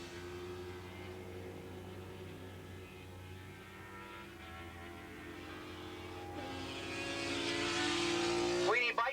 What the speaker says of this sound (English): And now the Yamaha gets passed by 2 more Kawasaki riders as they go up the hill.